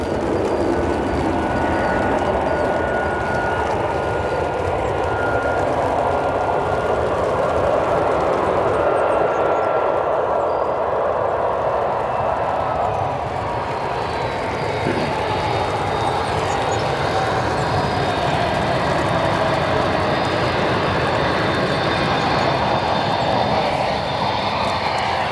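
Boeing 757 jet engines at O'Hare Airport produce a powerful, continuous roar that stays loud and even throughout, with a faint rising whine partway through and no talking.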